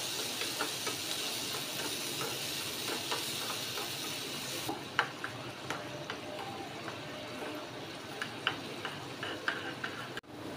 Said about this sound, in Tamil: இப்போ சீனி வந்து பட்டரில் நல்லா கேரமல் ஆகி இது கூட மிக்ஸ் பண்ணி எடுத்துக்கோங்க